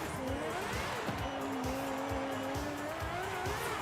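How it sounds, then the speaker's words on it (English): Sports car engine droning at high revs in Forza Horizon 5, an all-wheel-drive X-class build with a massive exhaust, with gear-shift steps and a steady near roar throughout; tire squeal is not clearly separable. "Yeah, the engine sound is amazing."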